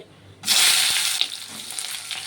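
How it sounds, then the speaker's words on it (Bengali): Chopped onions drop into hot oil with cumin seeds in a pan, setting off a sudden loud, steady sizzle that holds close and bright and eases only slightly as the frying continues. "এখন দিয়ে দেবো পেঁয়াজ কুচি।"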